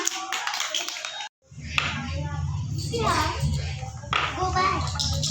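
Children clapping together in a classroom, bursts of scattered applause mixed with kids' chatter and voices throughout, briefly cut off near the start.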